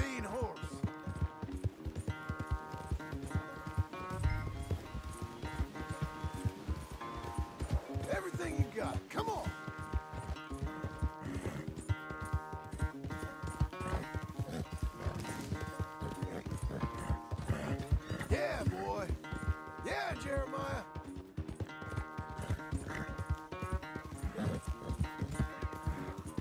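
Horse in Red Dead Redemption 2: steady clip-clop of hooves running throughout, with neighs and whinnies breaking in, all under a game music score and with a voice talking over it.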